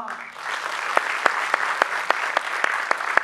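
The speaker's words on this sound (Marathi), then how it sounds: "माझ्या मुक्तासाठी टाळ्या हाना." Audience applause for Mukta Salve during a Marathi stage performance as Mahatma Phule, a steady wash of clapping with sharp individual claps standing out, lasting about three seconds.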